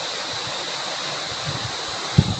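Steady broadband rush of river water flowing at a riverside in the countryside, continuous and fairly loud, with a brief low thump near the end and no speech.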